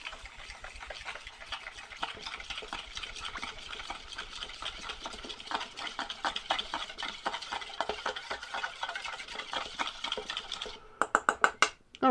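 Meatloaf mixture with about half a cup of tomato paste being stirred and squished in a bowl, a steady rhythmic sticky churning that runs continuously, ending with a few sharper taps.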